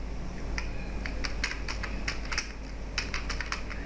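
Someone types on a computer keyboard while creating an Excel macro, giving a quick run of light, crisp key clicks in irregular bursts, close and fairly quiet over a faint background hum.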